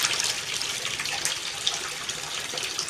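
Water is poured into a metal distilling pot while making rose water, a steady splashing, trickling stream held close and fairly loud across the whole short stretch, with no voices.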